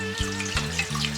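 Tap water runs steadily into a pot for instant tantanmen ramen, a continuous near splash and hiss with a few brief dips in flow.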